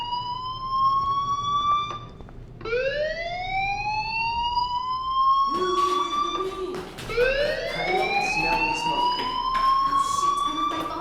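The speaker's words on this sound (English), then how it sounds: "do you hear that fire alarm? That means you should be outside." Fire alarm ringing in the video game Life is Strange: loud electronic whooping tones that sweep upward again and again, each rise repeating in a steady cycle with faint background game sounds underneath.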